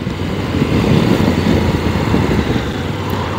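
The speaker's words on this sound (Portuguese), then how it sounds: "E este som deste motor, estou a gostar." A 2022 CFMOTO 800MT motorcycle engine while riding, a steady close rumbling drone with slight swells, heard alone without any talking.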